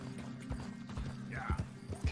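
Horse hooves clip-clopping in an uneven rhythm, close by, with a brief whinny-like tone midway, from the video game Red Dead Redemption 2.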